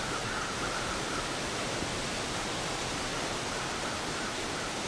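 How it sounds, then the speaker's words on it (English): Loud waterfall in a survival video game, a dense, unbroken rushing roar that fills the whole stretch at constant volume. "this waterfall is so loud"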